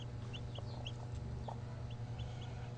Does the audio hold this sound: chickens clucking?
yes